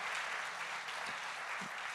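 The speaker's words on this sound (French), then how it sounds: "faire une dernière session d'applaudissements pour nos étudiants" Applause for university students after their presentations at a student event, a dense, even wash of clapping from a sizeable audience, fairly soft and continuous.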